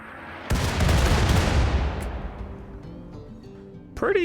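A mortar volley fires in the video game RimWorld, opening with one heavy, loud blast and a rumbling boom that slowly fades, then a brief sharp sound near the end.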